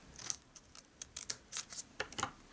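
Scissors snip through a strip of adhesive rhinestones at a craft desk, giving a series of short, quiet, crisp cuts spaced irregularly, close by with no talking.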